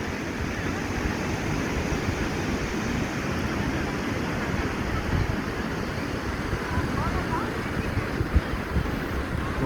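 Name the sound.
waves on Guhagar beach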